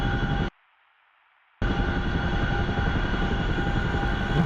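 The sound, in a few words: Chinook helicopter in video game DCS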